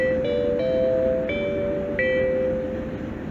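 An electric České dráhy passenger train's motor whines in steady tones that step up and down in pitch over a rumbling hum as it rolls into Rakovník station, fairly loud.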